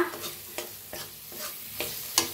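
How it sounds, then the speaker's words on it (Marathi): Onion mixed with ground masala paste stirred and roasted in a pan for a bottle gourd curry, with regular scraping strokes over a soft sizzle, close and clear, no voices. "आता छान मिक्स करून भाजून घेऊया आपण। बघा मस्त भाजायला आला आपला कांदा"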